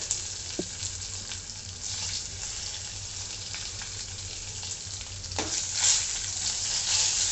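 Crushed garlic fries over low heat in oil for Tamil Nadu rasam, a steady close crackling sizzle that runs throughout and swells slightly near the end, with a few light stirring clicks.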